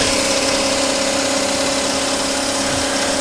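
An Audi diesel car idles steadily with a low, even rumble and a constant hum, close and continuous with no talking over it.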